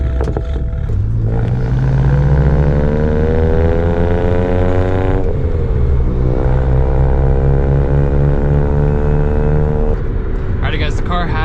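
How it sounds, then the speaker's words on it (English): A BMW 335i with the N54 engine and a burble tune drives past steadily, its exhaust droning in a deep, loud tone that rises and falls through gear changes. Faint crackles come near the end. "so you can hear the exhaust from the outside."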